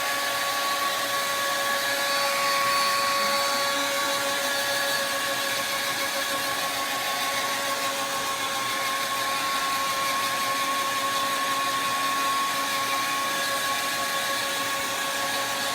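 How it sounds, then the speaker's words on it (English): A blow dryer runs steadily and close by, drying freshly applied eggshell-colored craft paint, its constant whirring hiss holding level for the full stretch with no voices. "let's hit this with a blow dryer"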